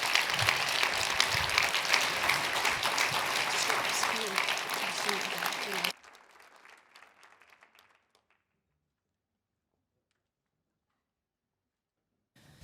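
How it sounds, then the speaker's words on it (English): Audience applause at a Nordic/Baltic ministers panel discussion, dense and steady for about six seconds, then thinning to scattered claps and fading to silence. "Please give them a"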